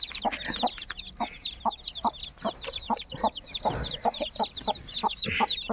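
Chicks at home, hatched from a clutch of eggs, keep up a busy stream of high peeps and soft clucks, close and steady, with no talk over it.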